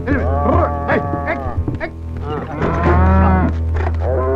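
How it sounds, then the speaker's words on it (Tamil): Cattle being loaded onto a lorry, several cows mooing loudly one after another in long, close calls with short gaps between them. "ஏனே லாரியில மாடுகள் எங்கே ஏத்திட்டு போறீங்க?"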